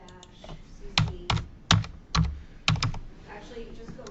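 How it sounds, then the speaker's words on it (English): Keys on a computer keyboard are struck in short bursts, five or six distinct clusters of sharp clacks fairly close, with quiet gaps and faint background voices between them. "start typing again"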